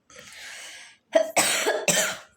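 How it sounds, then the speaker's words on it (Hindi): Two or three harsh, close coughs in quick succession, following a brief breathy rasp, with no talking. "खांसी आ जाती बार बार"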